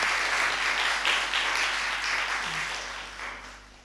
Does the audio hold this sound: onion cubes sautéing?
no